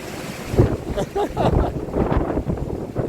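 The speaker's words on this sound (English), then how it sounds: "There's no rain, but it's windy." Gusty hurricane wind buffets the microphone in uneven bursts, rumbling loudly and close, while a voice speaks intermittently underneath.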